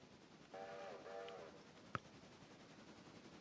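A passenger steam train in a railway video game sounds a steady multi-tone whistle for about a second over a low rumbling background, followed by one sharp clank.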